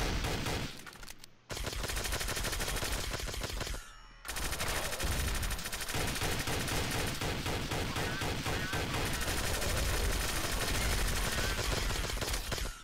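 Dense automatic gunfire from a zombie-mode match in Counter-Strike: Source rattles in rapid, overlapping bursts, loud and nearly continuous, with a couple of brief pauses early on.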